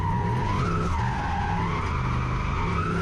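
Continuous tyre squeal from a turbocharged 1UZ V8 Lexus LS400 sliding hard at a drift day, a sustained screech with wavering pitch under a steady engine roar, loud and close throughout.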